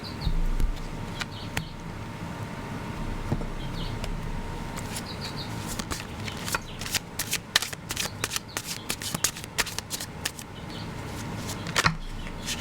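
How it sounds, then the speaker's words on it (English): A tarot card deck is split and shuffled by hand, a run of crisp, rapid riffling flutters and soft card slaps with a card pulled out, close and clear with no talking. "I'm splitting decks, so I'm just going to pull that card"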